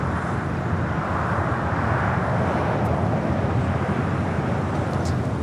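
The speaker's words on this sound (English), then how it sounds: "Next takeoff is United, flight 2377, heading to Houston. A 737 at MAX 9." A United Boeing 737 MAX 9 airliner takes off at LAX, heard as a steady, loud broadband jet engine roar that holds constant throughout with no voices.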